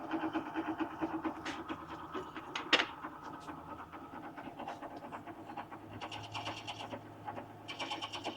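A fly cutter machines metal on a cutter grinder rework job, giving a steady rhythmic whirring and chattering with a sharp clank near the start and a continuous machine drone throughout.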